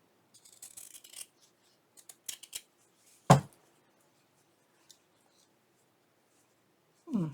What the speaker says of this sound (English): going to have to cut off some of the stem